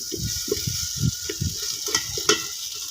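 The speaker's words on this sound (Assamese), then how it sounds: "এতিয়া ইয়াত দিম আলু এই আলুখিনি ভালকৈ ভাজি" Potato pieces stir-frying in a pan for a bottle gourd and fish head curry, with a steady close sizzle and repeated scraping stirs in an uneven rhythm.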